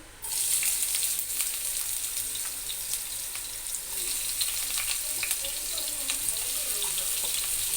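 Chopped onion goes into hot white oil in a kadai and fries with a steady, loud sizzling hiss that starts suddenly and continues evenly, with faint crackles and a hint of stirring.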